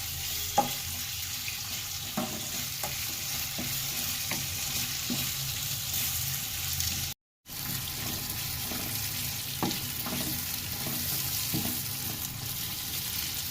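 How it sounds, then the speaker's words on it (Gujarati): Papaya cooking in a pan with salt for a Saurashtra-style papaya-chilli sambharo, a steady low sizzle with occasional light stirring clicks and a brief cut of silence partway through, no voices. "પપૈયાને ફૂલ પકાવી દેવાનું નમક નાખી અને ત્રણક મિનિટ પકાવી દેવાનું"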